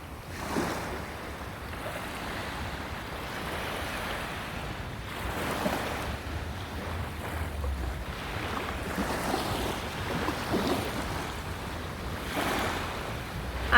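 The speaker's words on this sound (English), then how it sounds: "I hope you can hear the sound of the waves." Ocean waves at sunset roll and wash steadily onshore, a continuous broadband surf with swells rising and falling, buffeted by some wind noise on the microphone and no voices.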